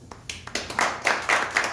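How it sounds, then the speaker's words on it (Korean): A church congregation at a Sunday worship service claps hands together in a quick, fairly even rhythm, a string of bright, close claps that repeats several times in under two seconds. "박수 한번 해주세요"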